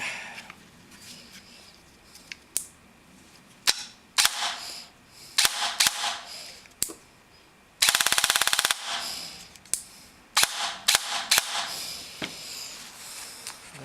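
An ARES EFCS airsoft gun with a replaced spur gear and an ARES version 2 gearbox bevel gear fires in single sharp shots and short bursts, close and loud. One rapid full-auto burst comes near the middle.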